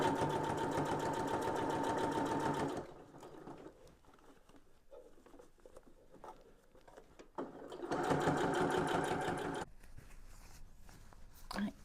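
A sewing machine stitches elastic onto a fabric drink cover in two bursts of rapid, steady mechanical chatter, separated by a quieter pause with small handling noises.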